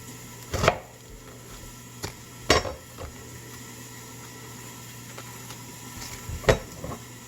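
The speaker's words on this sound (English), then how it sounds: "and then we'll slice this way really thin" A knife slices a vegetable really thin on a board: a few sharp, close cutting taps, spaced irregularly, with a quiet pause between strokes.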